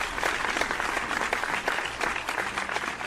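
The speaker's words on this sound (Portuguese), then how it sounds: "Um salve de palmas para os meus queridos formandos." Applause in the video game The Crooked Man comes through as a short burst of crowd clapping, dense and even, moderately loud throughout.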